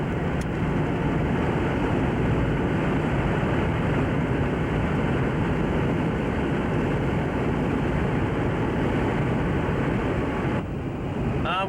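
Strong wind buffets a car driving northbound on Highway 283 in Oklahoma, a steady loud roar and rumble that holds throughout with no talk.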